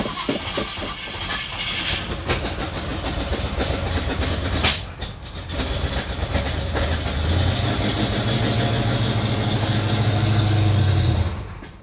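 An abandoned 1956 Chevy wagon's engine runs rough, missing on one cylinder, a loud close uneven rumble with hissing and a brief dip before it steadies and revs higher.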